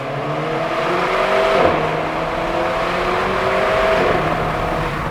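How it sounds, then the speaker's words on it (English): An Alpine A110 four-cylinder engine accelerates in second gear in a tunnel, a continuous rising rev with a booming echo that builds over several seconds. "it sounds like a nicely tuned 4-cylinder on the outside, but it's not mind-blowing"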